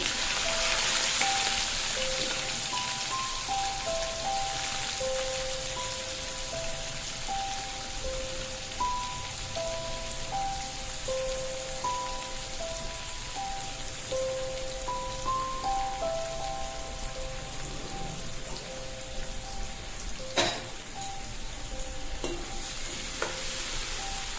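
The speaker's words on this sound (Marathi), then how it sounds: "मिरची, कांदा टाकून घेऊ।" Chili and onion, with cumin, fry steadily in a pan for a breakfast dish, giving a continuous dense sizzle throughout with a few faint utensil taps.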